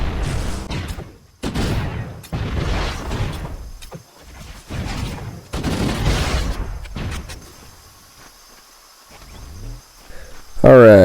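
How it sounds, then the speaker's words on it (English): A burst of grenade explosions in a Halo video game gives repeated heavy, rumbling booms in quick succession, each decaying into echoing roars, then a quiet stretch before a final sharp noise. "let me just pop off a bunch of these grenades here real quick"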